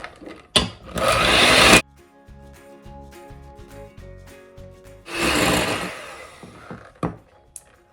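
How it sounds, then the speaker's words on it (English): Electric hand mixer whipping egg whites until foamy, two loud whirring bursts of about a second each separated by quieter clunks and a faint tonal hum, close and alone without speech. "I'm using the hand mixer just to make it faster for me so I'm not standing here for 20 minutes whipping eggs"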